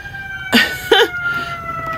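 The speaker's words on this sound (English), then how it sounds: "What is my video without sirens in the background?" A distant siren near a hospital holds a steady drone in the background while two short, close vocal bursts, like coughs, break in over it.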